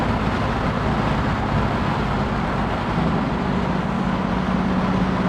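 Supercharged LT4 V8 in a 1968 Camaro SS restomod cruises in sixth gear at low revs, a steady, even engine drone mixed with road and wind noise inside the car, with no break throughout.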